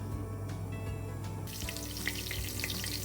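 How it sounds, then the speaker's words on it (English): Steady sizzling of spices frying in a pan for chicken tikka curry, with a brighter crackle joining midway; no talking. "we will fry these first before we put the onions in."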